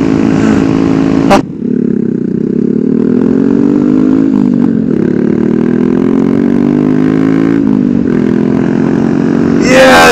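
A Ducati supermoto motorcycle engine revs loud and close, one sustained roar that climbs and falls after a sharp clatter near the start, with a rider's voice mixed in.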